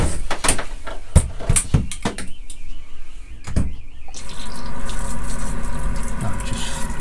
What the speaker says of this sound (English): And don't forget to open the taps to let the water out.